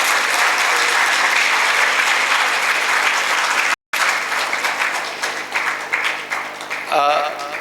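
A seated audience at a talk on youth and drug abuse claps for itself in steady, loud applause, broken by one brief dropout, before tapering as a voice starts speaking near the end.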